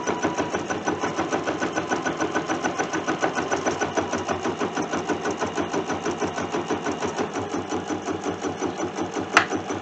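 A long-arm quilting machine runs steadily through an edge-to-edge pass on a block-of-the-month quilt, its fast, even needle rhythm close and continuous, with a brief sharp click near the end.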